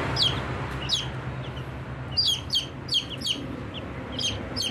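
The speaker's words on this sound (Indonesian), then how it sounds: "Ini anak ayam campuran juga sama ini" Chicks of a Brahma and laying-hen cross cheep in short, high bursts, several calls clustered together over a steady low background hum, moderately close.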